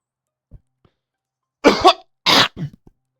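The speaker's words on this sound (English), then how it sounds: "bit of a coughing fit there" A person has a short coughing fit: two harsh coughs close together, then a pause and a third hacking cough with a throaty tail, close and loud against near silence.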